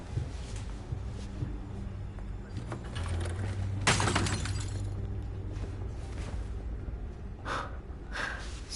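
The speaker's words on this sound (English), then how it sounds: "Smashing stuff in Bruce's house." Objects smashing inside Bruce Wayne's mansion in the Telltale Batman game, a sharp crash near the middle with shattering debris, followed later by a couple of smaller knocks over a low rumbling game background.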